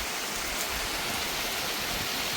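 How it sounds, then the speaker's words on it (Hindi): Steady rain falls in a dense, even hiss that stays constant and fairly loud, with no voices. "ये कैसी बारिश है, कभी आ रही है कभी जा रही है"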